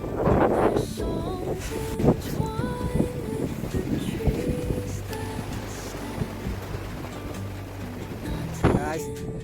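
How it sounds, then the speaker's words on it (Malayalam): Strong wind near the summit of Mount Maroon, outside Brisbane, roars steadily and buffets the microphone with a low, rumbling rush that lasts throughout, while muffled voices are heard underneath. "മണ്ടക്കോട്ട് എത്തും തോറും നല്ല അടിപൊളി കാറ്റായി തുടങ്ങിയിട്ടുണ്ട്"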